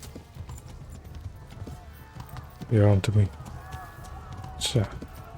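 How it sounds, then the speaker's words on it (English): Hooves of a horse galloping in Kingdom Come: Deliverance, a rapid clip-clop that swells loud in two bursts with a whinny, while someone talks over it. "Let's horse ride out of here."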